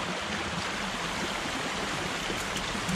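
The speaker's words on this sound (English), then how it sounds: "run the water through the garden hose and then shut it off" Steady, even rushing of water running through a garden hose, close and continuous with no pauses, a broad hiss.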